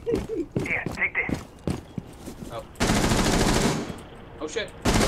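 Gunfire in Rainbow Six: Siege, first as scattered sharp shots under excited talking, then a sustained loud automatic burst of about a second, followed by a few more shots.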